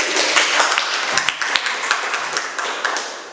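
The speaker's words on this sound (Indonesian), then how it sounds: "Tepuk tangan nomor 1" A group of students in an Indonesian classroom claps in unison after a presentation, with dense, close, loud clapping and a few sharper slaps standing out over about three seconds.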